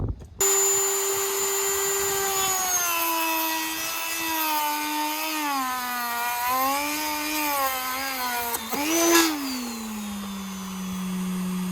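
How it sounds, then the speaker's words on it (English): A Dremel rotary tool cuts a hole during an Elan restomod while a hoover runs nearby: a close, steady high whine that sags and wavers in pitch under load over a constant vacuum roar, with a brief surge near the end. "So I'm gonna get the Dremel out and give it a buzz."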